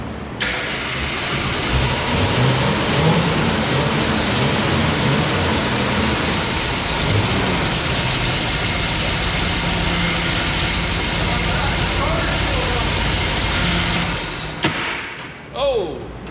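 An abandoned Jeep engine with a sticking starter cranks and runs, a loud continuous rough engine roar that holds steady for several seconds before cutting off with a few thumps near the end.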